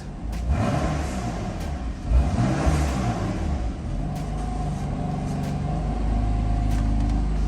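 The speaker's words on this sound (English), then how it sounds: "Gonna go ahead and give it a couple of quick revs for you guys" A 2017 BMW M3 engine revs hard several times with a loud, rumbling exhaust, close up and sustained, with sharp throttle blips rising over a steady idle.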